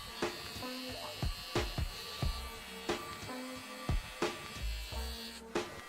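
A Wahl Detailer hair trimmer buzzes steadily and close during a haircut, lining up a fade with repeated short strokes that give a pulsing rhythm of brief louder bursts over a constant hum.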